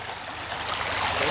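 A river in St Ann, Jamaica rushes steadily nearby, a dense even hiss of flowing water that swells slightly over the short stretch.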